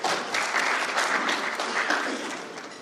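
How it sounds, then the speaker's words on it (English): An audience claps for a presenter at a Western Kenya sanitation hackathon, a steady dense wash of applause that holds level for about three seconds before easing off slightly at the end. "You can clap for Ruben."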